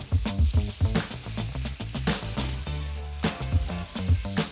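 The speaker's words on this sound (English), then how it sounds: "we're basically going to saute these in all that flavour" Steak sears and sizzles steadily in a hot pan, deglazed with lemon juice, with repeated low thuds and scrapes from stirring and moving the meat, loud and close without any talk.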